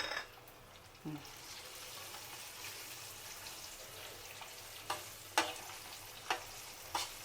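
Garlic sizzles softly in hot oil for a tamarind garlic chutney, a low continuous fry broken by several sharp scrapes and clinks of stirring.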